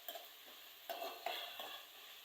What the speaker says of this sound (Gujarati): અને થોડીક તેલમાં સાંતળવા દેવી।